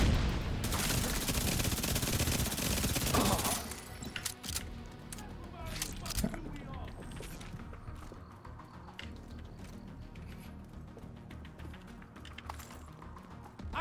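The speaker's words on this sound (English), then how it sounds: "I hear gunfire." Gunfire in The Division video game: a dense burst of rapid shots and automatic fire for the first few seconds, then scattered fainter distant shots and game ambience over the rest.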